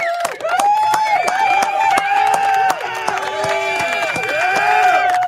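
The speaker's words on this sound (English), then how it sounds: "he get a round of applause for that" An audience cheers and claps in a steady, loud, continuous wave of whoops, raised voices and scattered hand claps, with no single speaker standing out.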